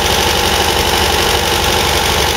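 An MGB's engine idles steadily during carburettor adjustment, a loud, even running drone with a faint knocking pulse that holds without change throughout.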